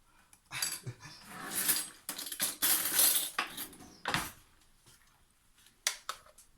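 A spoon clinks and scrapes against a jar while scooping thick, slightly chunky homemade spicy ketchup, with a string of close, sharp metallic taps and scrapes of varying loudness and no talking.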